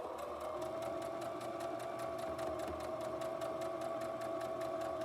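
A sewing machine runs steadily, stitching forward and back across fabric in a fast, even mechanical whir with a regular needle tick, close and continuous throughout.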